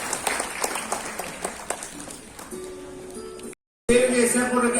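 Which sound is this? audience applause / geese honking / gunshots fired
audience applause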